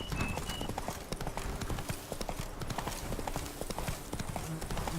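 Roach, the horse in The Witcher video game, gallops with a rapid, even clip-clop of hooves close and loud throughout, plus faint creaks and brief tonal snorts mixed in.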